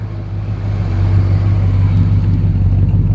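A 1965 Chrysler 300 engine idles smoothly and loudly up close, a steady mellow rumble with no talking over it.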